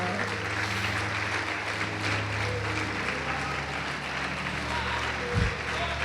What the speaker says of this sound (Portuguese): Quem pode aplaudir o Senhor Jesus e glorificar?